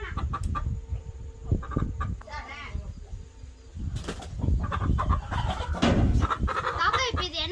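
Chickens cluck and flap on a farm, with a white and a black hen among them, the calls steady and close throughout while people talk and move about nearby.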